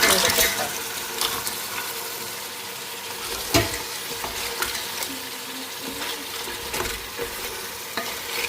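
Salted crab roast stirred in a hot pan: continuous close sizzling with repeated scraping strokes of a spoon against the pan and occasional louder knocks, no voices.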